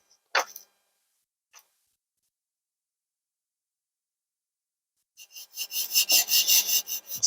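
Wet sanding of a wood and resin pendant with 320-grit sandpaper: a brief scrape and a faint tick early on, then a long quiet gap before steady, close, rhythmic back-and-forth rasping strokes fill the last two seconds.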